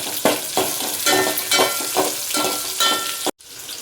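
Sliced onions sizzle in hot tempering oil while being stirred in regular strokes, a loud crackling fry that cuts off abruptly near the end.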